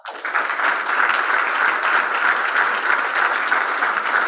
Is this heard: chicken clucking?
no